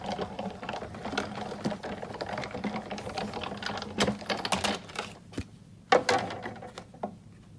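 Thick embossing folder with a single cutting plate cranked through a die-cutting embossing machine, a steady run of close mechanical clicks and ratcheting thumps with a couple of heavier knocks.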